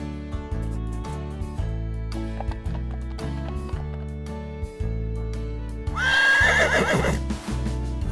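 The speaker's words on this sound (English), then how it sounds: "Horse." A loud cartoon horse whinny rises and shakes for about a second and a half, set against cheerful background music.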